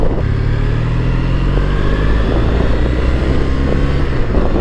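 A Triumph Bonneville T100 motorcycle being ridden gives off a continuous engine drone mixed with heavy wind rush over the microphone, loud and steady throughout.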